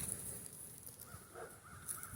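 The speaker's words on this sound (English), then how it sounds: "You hear the crows in the background." Crows cawing faintly in the distance, a few drawn-out calls scattered across an outdoor background hum with no one talking.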